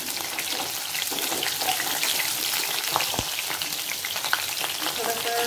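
Chicken pieces for a Kentucky-style chicken fry sizzle steadily in hot oil, a dense, continuous crackle with occasional spatters and a brief clink near the end.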